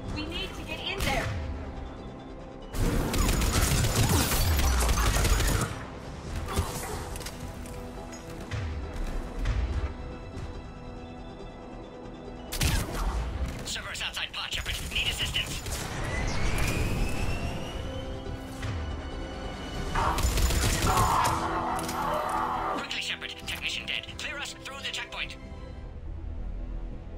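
Gunfire at a checkpoint in Mass Effect 3, with bursts of shots and crashes mixed with heavy rumbling and whooshing engine noise, while people talk over the fighting.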